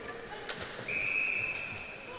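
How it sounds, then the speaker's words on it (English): At an ice hockey game between NC State and UNC Wilmington, a referee blows one sustained, shrill whistle blast of almost a second over a faint arena murmur. "And now we'll get a whistle."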